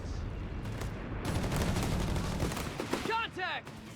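Covering gunfire in Company of Heroes 3, a sustained crackle of mixed shots and bursts running under a commentator's voice, with distant booms in the battle din.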